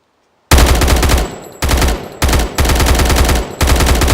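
A Scar L rifle chambered in 5.56 fires in a modded Minecraft Bedrock game, with loud sustained automatic bursts in four close, rapid runs separated by brief pauses, following a moment of silence.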